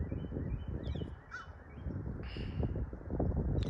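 A crow calls outdoors with a few short, harsh, awkward-sounding caws over a dense, rumbling background of ambient noise.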